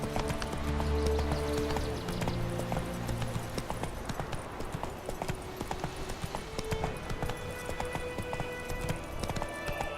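A horse gallops in The Witcher 3, rapid rhythmic hoofbeats close and steady over layered game music and ambience, with a brief whinny near the start.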